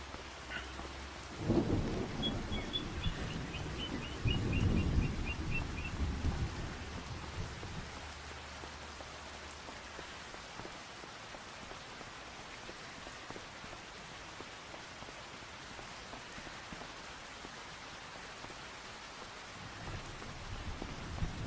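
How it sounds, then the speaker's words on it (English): Rain and thunder in the farming video game Farming Simulator 25: a steady wash of rainfall throughout, with a deep rolling thunder rumble early on that fades into continuous rain. "Nothing like a walk in the rain, brisk walk in the rain"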